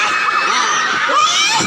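A crowd of junior high school students at a school in Lubuklinggau screams loudly together on command in a dense, sustained chorus of shouts that fills the whole moment.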